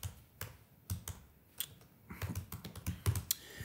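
Keystrokes on a computer keyboard as a note is typed: soft, irregular clicks in short bursts, quiet and close, with no voice.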